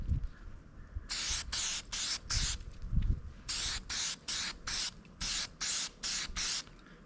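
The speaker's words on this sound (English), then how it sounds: "just give it a good healthy amount of spray here" Aerosol can of filter oil sprayed onto a reusable engine air filter for a Ram van, in about eleven sharp hissing bursts close to the mic, first four then a rapid run of short sprays, with quiet handling sounds between.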